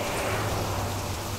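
Steady heavy rain falls at a bus stop shelter, a dense, loud, even hiss that fills the whole moment without pause.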